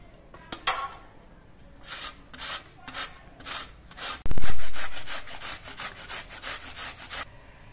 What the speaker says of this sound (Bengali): এই দেখুন, একেবারে সরু সরু করে কাটা হচ্ছে।